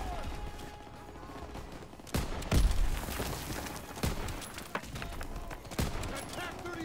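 An enemy gunner fires on a tank in a war video game campaign: scattered loud gunshot cracks and short bursts over a rumbling battlefield background, with voices faintly present.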